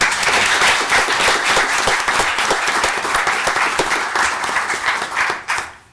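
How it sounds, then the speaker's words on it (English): An audience at a town council meeting bursts into a round of close, lively clapping that swells and then fades out quickly at the end. "Yes, that deserves a round of applause."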